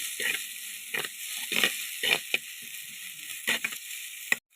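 Tomato added to a frying nathal fish mixture in a pan, giving a constant high sizzle broken by several sharp scraping and stirring strokes of a spatula, close and moderately loud with no voices.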